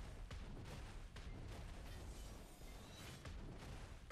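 Cannon fire during a siege battle in the online game Black Desert: a dense, continuous roar of booming blasts and rumbling impacts, with repeated sharp bursts every half second or so, loud and unrelenting throughout.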